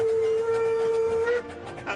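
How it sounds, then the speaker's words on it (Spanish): A steady, high whistle from a small American locomotive blows for over a second, then cuts off, leaving rumbling engine and rail noise behind. "Me encantan los trenes estadounidenses, con sus distintivas campanas y silbatos."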